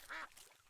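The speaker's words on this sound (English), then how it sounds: "Duck." A single duck quack, short and fairly clear, standing alone with faint background noise.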